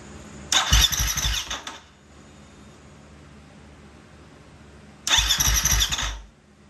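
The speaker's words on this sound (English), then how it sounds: "this is a startup with the stock ECU." A KTM 350 motorcycle on its stock ECU starts up in two separate bursts: a loud engine fires and revs roughly a second, cuts out to quiet idle hiss, then catches again briefly before stopping.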